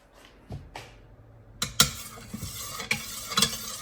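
A spoon clinks and scrapes against a container as a tablespoon of sour cream is stirred into milk, a few soft knocks and taps, close and fairly quiet.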